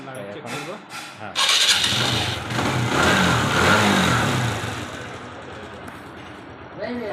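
A TVS Striker 125 motorcycle with a starting fault fires up with a sudden loud burst, then settles into a steady, close idle at even revs while someone talks over it.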